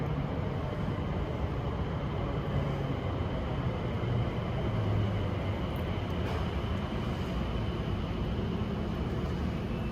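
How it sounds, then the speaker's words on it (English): An airport shuttle train pulls into a station at Dulles Airport, giving a steady, loud low rumble and rolling noise that holds evenly throughout, with no talk. "The train is arriving."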